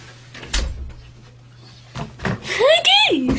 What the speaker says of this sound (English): I'm sorry, just have to close the door.